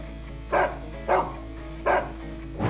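A dog barks at a would-be home intruder, three single sharp barks spaced roughly a second apart over a steady low hum, moderately close.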